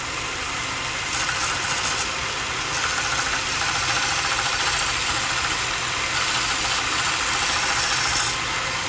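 A 1-inch belt sander with a 600-grit belt runs while a broadhead's back bevel is sharpened, a steady loud whirring hiss that swells slightly in brief passes as the blade touches the belt.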